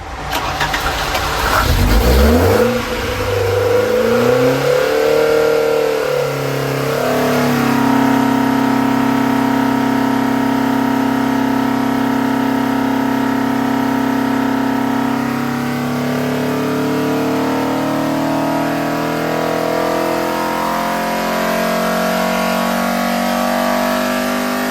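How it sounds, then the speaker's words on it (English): A Ford Pinto engine on 48mm Weber carburettors cranks, catches and revs up before settling into a steady, loud, throaty idle that continues with slight rising and falling in pitch. "So let's see the engine run on the 48s"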